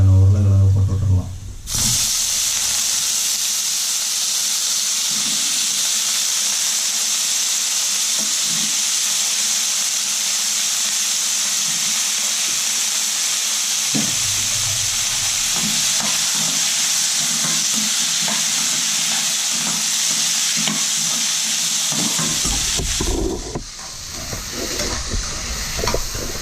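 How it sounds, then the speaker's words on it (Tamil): Potatoes fry with roasted onions in a pan for a meal maker potato curry, giving a steady, loud sizzling hiss with occasional scraping knocks of stirring. Brief clattering is heard at the start and near the end. "வெங்காயம்லாம் கொஞ்சம் ரோஸ்ட் ஆகிடுச்சு. அடுத்தது நம்ம குழம்புக்கு தேவையான உருளைக்கிழங்கு போட்டு விட்டுடலாம்."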